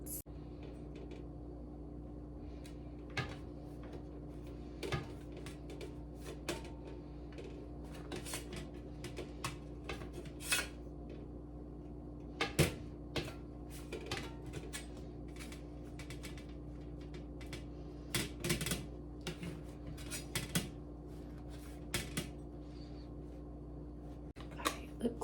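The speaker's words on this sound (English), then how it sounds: "I'm going to use this knife and cut away at the croissants." A knife cuts through croissants while a vegan dessert is prepared, giving repeated soft crisp crackles and brief scraping taps, close and quiet over a steady low room hum, with no talking.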